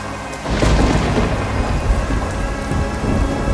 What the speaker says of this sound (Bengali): বাইরে বৃষ্টির শব্দ, ঝড়ের শব্দ, বজ্রপাতের ভয়ঙ্কর শব্দ।